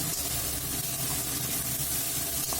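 Spice paste with tomato purée frying in a kadai for ghugni, giving a steady, even sizzle that holds close and constant from start to finish.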